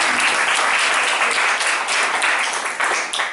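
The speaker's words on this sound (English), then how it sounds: "Another round of applause for Jane." An audience at a book launch claps together in one sustained, even burst of applause that fills the room at full strength throughout.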